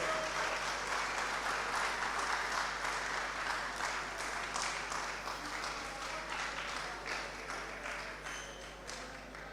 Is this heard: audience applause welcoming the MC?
yes